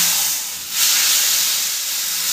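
Hot tempering is poured into khichuri, setting off a sudden loud hissing sizzle after a brief lull, which stays bright and steamy to the end.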